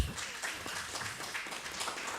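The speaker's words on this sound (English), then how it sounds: "Rounds of applause." Steady applause from a conference audience on Islamic psychology, many hands clapping together at moderate volume for a couple of seconds.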